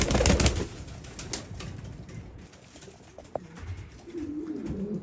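Damascene pigeons in a loft, with soft low cooing that swells toward the end after a brief burst of flapping at the start, close by and without speech.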